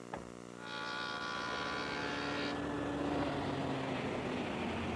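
A table saw fitted with a dado head cutter cuts an oak blank, producing a loud, steady machine whine that rises sharply in the first second and holds without letup to the end.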